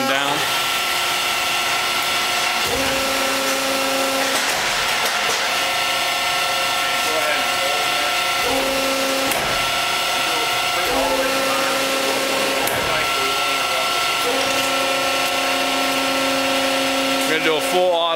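A 300-ton, 40 by 35 inch up-acting four-post hydraulic press runs a full automatic cycle. It gives a loud, continuous hydraulic whine and hum whose tones step up and down in repeated stages as it shifts into a slow-speed close.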